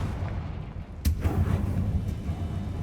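The Confringo fire spell in Hogwarts Legacy bursts with a sharp, loud crack, followed by a rumbling explosive tail over steady background game ambience.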